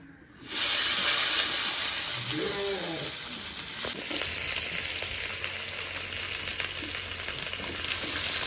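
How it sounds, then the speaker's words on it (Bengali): Eggplant pieces frying in leftover oil give a steady, fairly loud sizzle that starts abruptly and continues throughout, with brief clatter of stirring, while a faint voice hums in the background. "তো এখন ওই বাদবাকি তেলের ভেতর এই বেগুনগুলো হালকা করে ভেজে নেব।"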